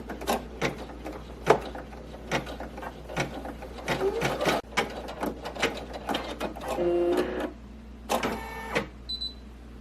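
A Brother embroidery machine stitching a design with a magnetic embroidery hoop, a busy mechanical run of rapid ticking and whirring, with a steady low hum beneath and a brief electronic beep toward the end.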